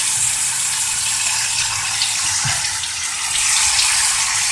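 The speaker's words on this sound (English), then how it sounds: "there's a fairly decent amount of water flowing through the heater core at this point" Water gushes steadily through a heater core hose on a 1993 Toyota Tercel during a flush, a loud, continuous rushing hiss close by with no voices.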